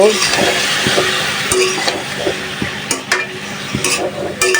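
Small shrimp stir-fried in a pan, with steady sizzling broken by repeated scrapes and metallic clinks of a spatula against the pan, close and fairly loud.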